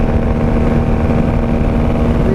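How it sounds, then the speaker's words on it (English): A 1995 Honda Magna VF750C with a Jardine exhaust idles close by, giving a steady, loud, rumbling drone with a constant hum and no voices. "The Jardine exhaust sounds pretty awesome."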